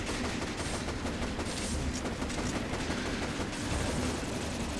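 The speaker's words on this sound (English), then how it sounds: "Holy crap, that's a lot of bullets coming at me." Continuous dense gunfire and bullet impacts in the Shadowgrounds shooter game, a loud unbroken barrage of rapid shots filling the whole stretch with no pause.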